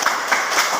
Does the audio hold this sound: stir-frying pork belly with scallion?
no